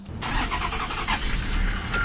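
A BB40 minibus engine in the Tourist Bus Simulator game cranks and catches after a brief silence, then settles into a steady, close idle rumble.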